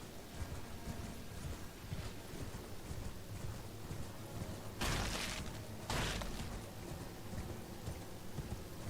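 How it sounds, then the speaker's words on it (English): Steady rainfall in Elden Ring patters softly throughout, broken by two brief, louder bursts of heavier noise midway, with no speech. "always raining here for some reason."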